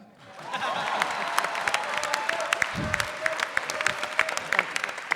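Applause from a Power Rangers convention panel audience fills the room as steady, dense clapping for several seconds, fairly distant and diffuse, with a few sharper claps standing out near the end.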